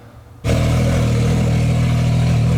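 Off-road race vehicle with an opened exhaust fires up after a short quiet moment and holds a loud, steady, close rev with a deep rumble for the rest of the clip, no talking.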